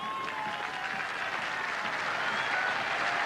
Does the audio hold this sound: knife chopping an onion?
no